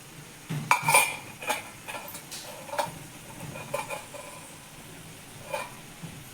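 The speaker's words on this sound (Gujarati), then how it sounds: "હવે ગ્રેવીમાં મસ્ત રીતે આપણે મિક્સ કરી નાખીએ" A spoon clinks and scrapes against a pan as garlic and cashew gathiya are mixed into gravy, with irregular sharp metallic taps spread across the stir, close and fairly clear over a quiet kitchen background.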